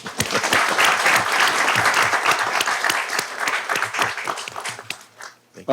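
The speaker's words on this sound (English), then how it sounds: "let's give them a round of applause, please" A loud round of applause from a sizable audience, dense clapping that thins out and fades near the end.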